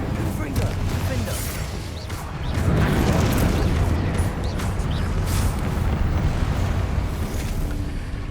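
Spell blasts such as Confringo and Incendio in the Hogwarts Legacy game: rumbling explosive bursts that swell into a sustained roar, with combat noise throughout.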